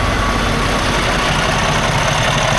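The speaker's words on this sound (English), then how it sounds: "Cummins X13, not a bad engine" A Cummins X13 diesel truck engine idles with a steady, close, low rumble and continuous mechanical hum throughout, with no talking.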